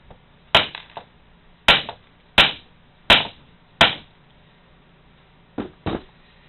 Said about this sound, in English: I'm gonna use the dead blow hammer to go ahead and drive this most way out and through.